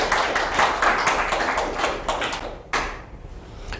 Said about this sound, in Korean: 동의하시면 이럴 때 박수 한번 보내주시죠